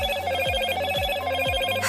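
A Moto G6 Plus phone rings with a steady electronic telephone-bell tone, clear and close, looping with a regular pulsing rhythm and no talking.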